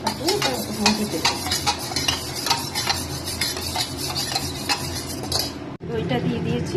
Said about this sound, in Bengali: দইটাকে একটু ভালো করে ফাটিয়ে নেব যাতে ডালা ডালা না হয়ে থাকে